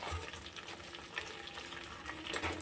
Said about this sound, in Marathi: आपले जे खडे मसाले आहेत ते चांगले तेलामध्ये परतून झालेले आहेत